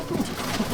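Chotial Madrasi pigeons in a home loft give a short burst of low cooing, close and soft.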